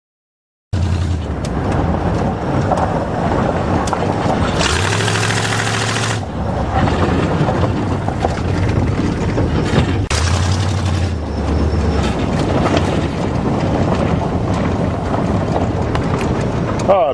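Buick Roadmaster with chopped custom headers, engine running loud and steady throughout with a brief revving surge partway, heard from inside the car while driving.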